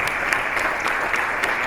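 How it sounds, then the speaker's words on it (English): An audience at a hospitality-industry sustainability conference claps for a speaker on stage, a dense, even burst of applause filling the room without a break. "Big round of applause for Emma,"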